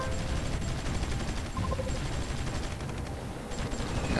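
Battleship guns fire in a continuous barrage during a Vietnam scenario of the Supreme Ruler 2020 strategy game, heard as a dense, steady wash of distant gunfire and rumble with no clear individual shots.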